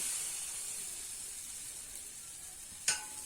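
Rice flour batter for soru chakli pitha ladled onto a hot tawa, giving a steady, soft sizzling hiss throughout and a short sharp clatter near the end.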